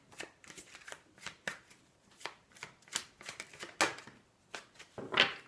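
Close, crisp riffling and snapping of tarot cards being shuffled by hand in a quiet room, a steady series of short papery bursts ending in a louder flurry, with no speech.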